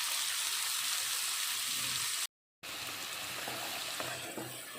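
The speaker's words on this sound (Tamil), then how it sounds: "ஒரு நிமிஷம் ஹை ஃப்ளேமில் வச்சு வதக்கிக்கிட்டோம்" A coriander and tomato paste sautés over a high flame in a pan. The loud sizzle is close and continuous, with a brief dropout midway and no voices.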